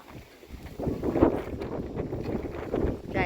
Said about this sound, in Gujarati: જો ગાઈસ જો પવન આવ્યો જો જો જો